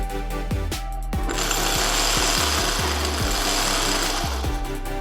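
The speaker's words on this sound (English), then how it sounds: "And now winding the bobbin." A Singer 401G sewing machine winds a bobbin with a loud, fast, steady mechanical whir and a rapid chattering hum, close up, broken by a few sharp low knocks in the first second and scattered thumps throughout.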